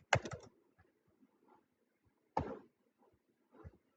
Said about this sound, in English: Let's type in Fred Perry again, just check our numbers.